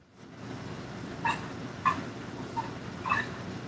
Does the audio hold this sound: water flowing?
no